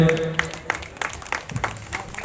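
Scattered applause from an audience at the opening ceremony of the Chabimura festival in Tripura: irregular clapping bursts at moderate distance over a murmuring crowd, with voices audible beneath.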